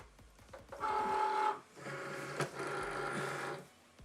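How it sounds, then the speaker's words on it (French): A Cricut cutting machine draws the cutting mat in with a steady motorized whir, several sustained mechanical runs broken by short pauses, near and moderately loud with no talking. "maintenant, je vais mettre le tapis dans ma machine"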